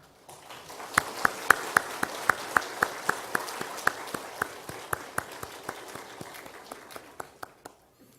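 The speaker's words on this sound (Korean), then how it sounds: "큰 위로의 박수 한번 부탁드리겠습니다" Congregation clapping together in a church during a Sunday worship service, a steady run of sharp, even claps in unison lasting several seconds, close and fairly loud.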